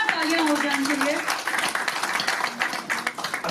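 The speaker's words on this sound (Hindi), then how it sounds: "एक बार जोरदार तालियां हो जाएं इनके लिए।" An audience at a wellness clinic launch event applauds, with steady dense clapping filling the room from start to finish while a voice speaks over it.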